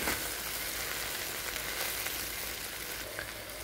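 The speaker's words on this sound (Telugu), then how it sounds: "సో బెండకాయ జిగురు లేకుండా ఫ్రై అవుతూ ఉంది." Okra (bendakaya) fries in a pan with a continuous soft, crackling sizzle, fairly quiet and steady throughout.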